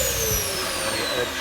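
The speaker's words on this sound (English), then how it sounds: "this vacuum is actually going to suck everything out, right GARTH?" A carpet-cleaning vacuum sprays detergent and sucks it back up, producing a loud steady mechanical whine and airy hiss with gliding tones across its brief run.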